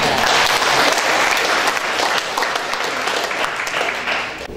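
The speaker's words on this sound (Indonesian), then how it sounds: "Jadi untuk ini semua tepuk tangan untuk kita semua." An audience at a university lecture claps continuously, dense and loud throughout, tapering slightly at the end.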